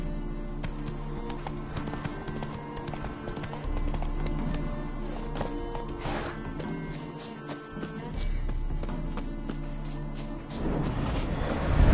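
Horse hooves clip-clop at a steady rhythm in The Witcher 3 as a rider travels, close and clear over quiet game music and ambience, with the horse spooked by ghosts.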